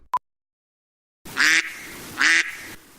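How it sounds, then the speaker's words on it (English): A duck quacks twice, loud and close, the two nasal quacks about a second apart, preceded by a short electronic beep and a pause, in a comedy diamond heist scene set in ductwork. "Now we're crawling through ductwork in the comedy diamond heist, and we hear a duck."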